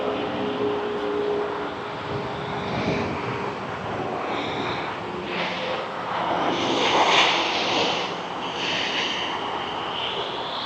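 An airliner touches down and rolls out at Toronto Pearson (YYZ), heard from a distance as a broad, steady engine roar with a swell in the middle as reverse thrust builds, then easing slightly, with no talk over it.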